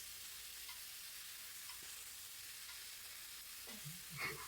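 Aloo posto with cauliflower, a poppy-seed and potato dish, cooking in a pan: a faint, steady sizzle with occasional soft stirring scrapes near the end, no talk.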